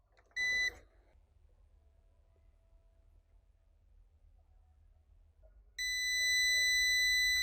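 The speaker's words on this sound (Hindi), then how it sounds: "तो ये जो लगातार बीप का साउंड है ये एरर शो करता है" A power inverter plugged in to charge from its own output sounds an error alarm: a short shrill electronic beep, a low hum, then a loud continuous tonal beep that keeps going.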